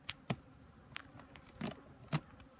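Honey bees at an opened beehive during winter preparation, with a few brief buzzing passes close by, each short and separate against a faint outdoor background.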